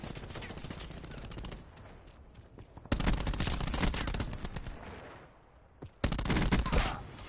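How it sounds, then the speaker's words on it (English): Rapid automatic gunfire in the video game Black Ops 4 comes in loud, dense bursts, with several sustained volleys separated by brief quieter gaps. "this gun reminds me a little bit of the MSMC, but more of like a nerfed variation of it"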